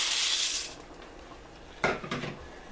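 Metal scraping and clinking against a pot as pasta is stirred, a few short strokes after a steady hiss of boiling water.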